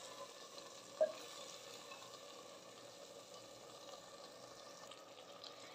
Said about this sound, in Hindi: आलू और कीमे को मैंने अच्छे तरीके से मिक्स कर दिया है